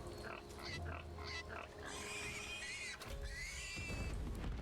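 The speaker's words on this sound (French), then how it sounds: "Il y a des cochons qui crient." Pigs squeal in a Divinity Original Sin II game scene, a run of short grunting calls followed by two longer high-pitched shrieks over a steady background of game ambience.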